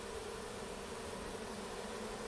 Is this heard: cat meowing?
no